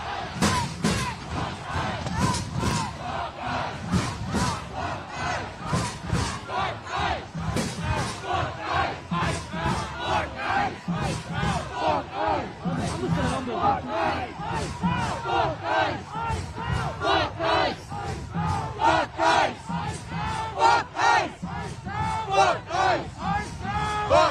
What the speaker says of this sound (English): I don't know if the energy of this crowd comes across through the camera